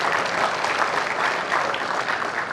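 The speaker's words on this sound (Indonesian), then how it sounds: "Tepuk tangan buat mereka berdua." A crowd at a talk event applauds two guests with a continuous wash of many hands clapping, loud and even from start to finish, with no clear speech on top.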